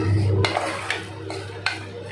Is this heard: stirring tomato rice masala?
yes